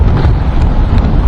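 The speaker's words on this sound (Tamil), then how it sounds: "சென்னை பட்டினப்பாக்கம் கடற்கரை பகுதியில் காற்று அதிகமாக வீசக்கூடிய அந்த காட்சிகளை பார்க்கிறோம்" Strong wind from a cyclone at Pattinapakkam beach in Chennai roars and buffets the microphone in a loud, steady, unbroken rush.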